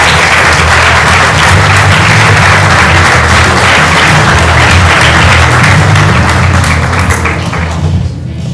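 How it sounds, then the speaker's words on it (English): An audience at the SciFest National Final 2022 applauds the science-society runner-up: loud, dense, sustained clapping fills the whole stretch, then thins and drops away at the very end. "Turn it to applause!"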